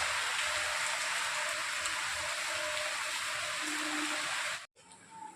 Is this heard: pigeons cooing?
no